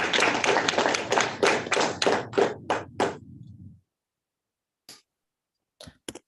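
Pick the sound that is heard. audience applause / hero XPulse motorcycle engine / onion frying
audience applause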